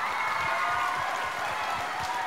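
An audience claps for the orchestra at the close of a stage concert, a steady wash of applause that fills the scene evenly throughout.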